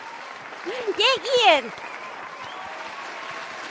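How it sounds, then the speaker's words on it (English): A clapping sound effect plays on a livestream, a short burst of applause that rises and fades behind an excited voice cheering over it. "press the clapping sound"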